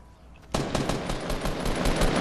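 Sustained automatic gunfire in Fortnite, a dense rapid stream of close, loud shots that starts abruptly and keeps going without a break.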